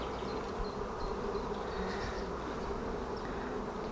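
Honeybees buzzing steadily on hive frames during a colony inspection after frosts, a dense close hum that holds unbroken throughout with no voices.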